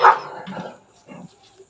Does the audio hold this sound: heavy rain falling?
no